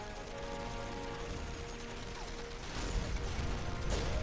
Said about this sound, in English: Ghost killing missile turrets.